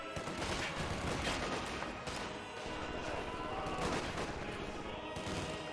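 MG42 machine gun fire in a Company of Heroes 2 battle, dense sustained bursts of rattling gunfire mixed with explosions, loud and continuous throughout.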